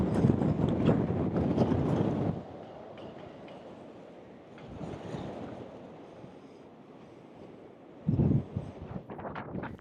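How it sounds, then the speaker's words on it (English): Wind gusting across the microphone at the Very Large Array observatory, loud rumbling buffeting for the first two seconds, easing to a softer rush, then another strong gust near the end. "I'm hoping you can hear me through the wind."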